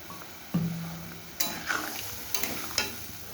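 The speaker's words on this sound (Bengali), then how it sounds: "আমি আর একটু জল দেবো" Water poured into a simmering fish-roe fritter curry in a pan, with a short splash followed by bubbling and sizzling and a few stirring scrapes.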